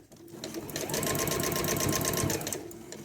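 A sewing machine stitches binding onto a t-shirt being upcycled into a shopping bag, its needle running in a fast steady whir that rises to full speed and then stops.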